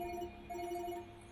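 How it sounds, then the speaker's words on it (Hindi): A mobile phone rings in a quiet indoor scene of a Pakistani TV drama, its electronic ringtone pulsing in short repeated tones, fairly close and clear with no talk over it. "देखा, मेरा फोन बज रहा है।"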